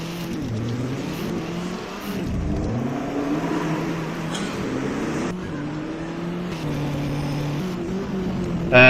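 Subaru Impreza rally car engine revving hard at a rally stage, pitch climbing and dropping through repeated throttle blips and gear changes, loud and close throughout.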